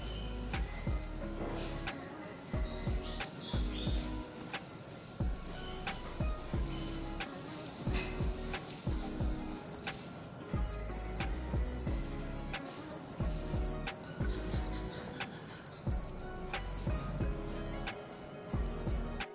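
A Casio F-105W digital watch alarm beeps in rapid, high-pitched bursts, repeating in a steady rhythm for about twenty seconds, thin and fairly quiet against low background rumble.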